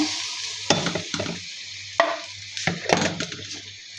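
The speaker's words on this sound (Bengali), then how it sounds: "দিয়ে দেবো কিছুটা গরম পানি মশলাটা বসানোর জন্য" Hot water poured into a wok of sizzling ginger, garlic, cumin and nut paste for a chicken bhuna, a loud steady frying hiss broken by several sharp spluttering bursts and stirring scrapes.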